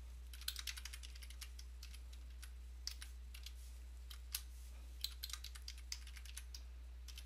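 Computer keyboard keys tapped in short irregular bursts while IP addresses are entered, close and fairly quiet, with a steady low hum underneath and no voices.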